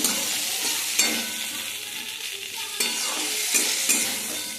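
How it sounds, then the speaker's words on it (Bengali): Curry sizzles in a pan while a spoon scrapes and stirs it in a few distinct strokes over a continuous close frying hiss, with no voices. "তো দেখতেই পাচ্ছি আমার ভালো করে কষানোটা হয়ে গেছে।"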